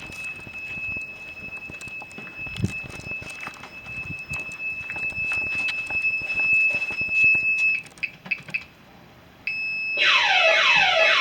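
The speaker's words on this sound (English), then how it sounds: "I just set the alarm off!" Sharp high-pitched alarm beeping continuously over shuffling and handling noise, breaking into rapid pulses before a loud, harsh sweeping siren takes over at the end.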